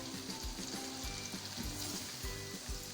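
Beef fries in a pan with crushed red chilli, fennel powder and cumin powder for yakhni pulao, giving a faint, steady sizzle with soft stirring bumps and no voices.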